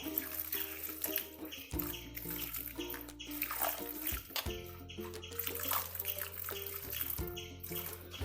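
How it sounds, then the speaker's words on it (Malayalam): Water is poured into a pan of mango for Kerala-style mango pachadi, a steady splashing pour running under background music. "നമുക്ക് കുറച്ച് വെള്ളം ഒഴിച്ചു കൊടുക്കാം."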